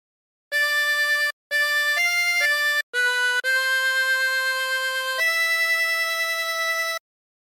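Silent Night melody played on a 24-hole tremolo harmonica, a run of clear sustained reedy notes with short breaths between phrases, steady and close, no voices.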